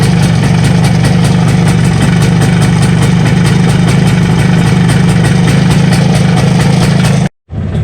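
An MZ TS125 two-stroke motorcycle fitted with a Mikuni carburettor idles steadily up close, a loud, even buzzing tick-over with a strong low throb that runs unbroken until a brief cut near the end.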